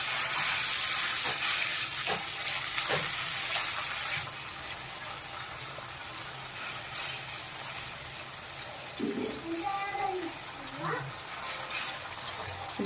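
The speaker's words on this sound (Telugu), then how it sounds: "తర్వాత పుదీనా వేసేసుకొని కలిపేసుకోవాలి." Mint leaves go into a pot of chicken curry and are stirred through, giving steady hiss and sizzle with scraping and faint clinks throughout, louder at first and then settling.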